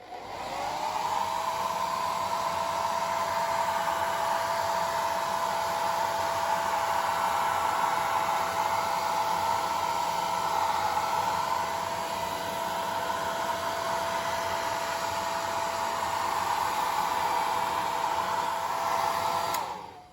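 A hair dryer blows steadily for about twenty seconds to dry varnish sprayed inside a clear 0.8 mm Lexan body for a Kyosho Inferno MP 11 RC car, a loud continuous whoosh with a steady motor whine, starting and stopping cleanly with no talk.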